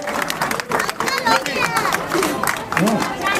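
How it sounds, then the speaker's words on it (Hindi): Audience clapping and crowd noise at an award ceremony for a young girl swimmer from Gaay Ghat Swimming Club in Varanasi, steady and moderately loud, with voices speaking over it. "एक बार जोरदार तालियां हो जाए इस बच्ची के लिए"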